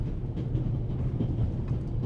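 A train runs in a steady, continuous low rumble with a faint rattling texture underneath, heard as a background scene in an audio drama with no voices.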